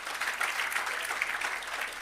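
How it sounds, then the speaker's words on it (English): An audience at the commissioning and launch of an irrigation system and agro park applauds, a dense, steady wash of clapping that holds at even loudness throughout, with no speech over it. "Can we give our High Commissioner a big round of applause?"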